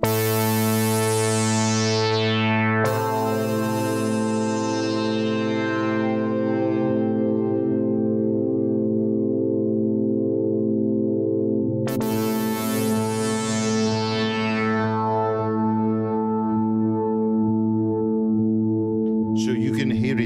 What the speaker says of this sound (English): So you can hear it better now, that gated effect